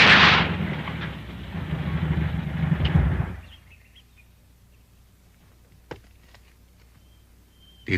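Gunfire in a tense, violence-stricken area, heard as a loud, dense burst of shots lasting about three seconds before cutting off, then near silence broken by a few faint isolated cracks.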